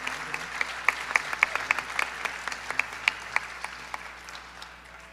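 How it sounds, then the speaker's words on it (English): Applause at a Bharatanatyam arangetram for an artist, an audience clapping steadily with distinct individual claps standing out, moderately loud and tapering off toward the end, no speech. "I'd like a round of applause for Sri Murali Balachandar."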